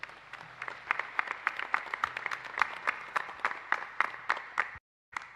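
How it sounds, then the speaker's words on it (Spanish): Congregation clapping inside a church during a Catholic Mass, a sparse, uneven applause of separate claps spread across the room, cutting off abruptly near the end. "Agradecemos también a nuestros monaguillos, a nuestros niños y niñas que nos acompañan, a los servidores con otro fuerte y merecido aplauso."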